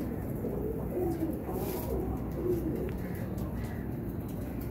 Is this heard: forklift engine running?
no